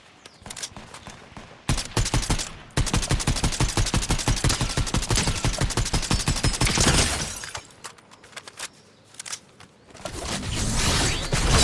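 Loud automatic weapon fire in a Star Wars Imperial Stormtrooper skin shooter game, long close rapid bursts with short gaps, mixed with sharp impacts and breaking noises.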